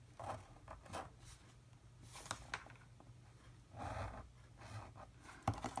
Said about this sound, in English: we'll score from the corner up to the bottom of the mark